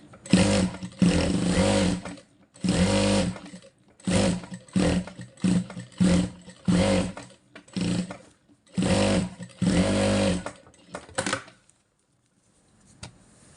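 A sewing machine stitches stretch fabric in about nine close, loud whirring bursts of a second or so each, separated by short pauses, with a quiet stretch and a faint sound at the end and no talking.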